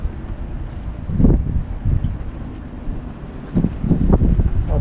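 Wind gusts blow across the deck of the Royal Clipper sailing ship at sea, a low, blustery rumble of microphone buffeting that swells and fades in uneven bursts, with no voices.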